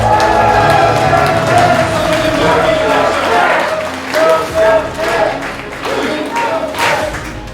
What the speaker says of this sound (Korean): 힘찬 박수 한 통으로 소개하겠습니다